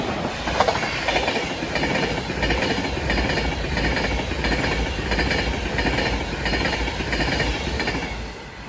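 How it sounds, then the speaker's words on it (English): An Avanti West Coast train to London Euston rushes past close by, its wheels clicking rhythmically over rail joints in a loud, steady roar that eases slightly at the end. "23 hours in Avanti West Coast service to London Euston."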